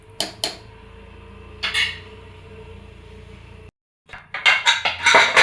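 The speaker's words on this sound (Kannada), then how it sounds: "ಈಗ ಕುಕ್ಕರ್ ಲಿಡ್ನ ಕ್ಲೋಸ್ ಮಾಡೋಣ." A pressure cooker lid is closed during the cooking of a Kannada-style greens-stem sambar. Sharp metallic clanks and clinks come at the start and again around a second and a half in. A brief silence follows, then a dense burst of rattling, scraping pot-and-lid clatter closes the clip, and no voice is heard.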